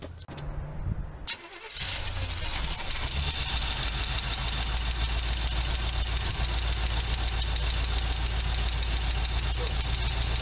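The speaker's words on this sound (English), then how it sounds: "What we call lifter tick." A car engine with a Quadrajet carburetor catches and settles into a steady idle, with a faint rapid lifter tick riding over the low rumble, heard close and continuous.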